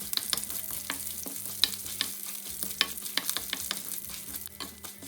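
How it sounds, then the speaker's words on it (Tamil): Mustard seeds, fennel, chana dal, dried red chillies and curry leaves crackle and sizzle steadily in hot sesame oil in a pan, with sharp pops and occasional stirring scrapes throughout, close and fairly quiet. "இப்போ இந்த சட்டிக்குள்ளே நல்லெண்ணெய் விட்டு கொஞ்சம் கடுகு, பெருஞ்சீரகம், கடலைப்பருப்பு, வத்தல் மிளகாய், கருவேப்பிலை இந்த எல்லாத்தையும் போட்டு தாளிக்கணும்."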